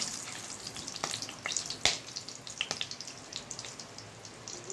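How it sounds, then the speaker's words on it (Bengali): Whole spices, including bay leaf, nutmeg, cardamom and cloves, fry in oil with soft crackling and a few sharp pops and spatters, fairly faint and close, with no voices. "এখানে গরম মশলা, তেজপাতা দিয়ে দিলাম আমি, জয়ফল, এলাচি, লবঙ্গ দিয়ে দিলাম। একটু ভাজা ভাজা করে নিতে হবে।"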